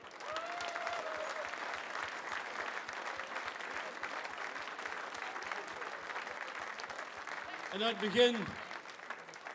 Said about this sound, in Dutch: Ik wil allereerst nog een heel groot applaus voor al die winnaars.